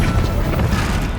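A Bombarda spell explodes in the video game Hogwarts Legacy, a brief, loud, booming blast with a dense low rumble that fills the moment on its own.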